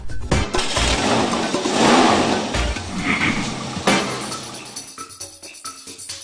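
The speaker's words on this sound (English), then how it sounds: "Now the fun part, go start the car." A Lamborghini Aventador SV engine starting, a loud close burst of cranking and roar that swells and settles before tapering into quieter, uneven rumbling near the end.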